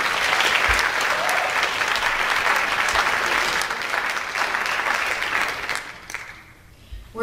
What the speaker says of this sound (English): So can I have a big round of applause for our Springbrook administrators?